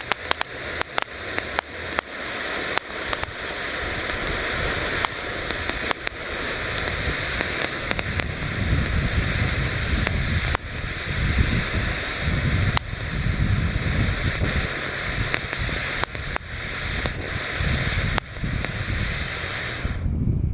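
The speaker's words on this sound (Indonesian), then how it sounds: "Lanjut di sini ada air mancur super jumbo guys yang akan kita nyalakan" A super jumbo firework fountain spraying sparks outdoors at night, giving a continuous loud hissing roar with frequent sharp crackles and pops over about twenty seconds, with no voices.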